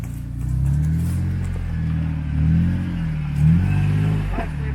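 A car labours up a bank, its mid-pitched engine droning and rising in short revving surges, close and steady throughout, with no talk.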